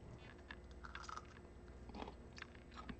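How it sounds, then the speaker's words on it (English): Crisp raw green beans stored in a jar are bitten and chewed up close, giving a steady run of quiet wet crunches and soft snaps with no voices. "They're crispy to chew on."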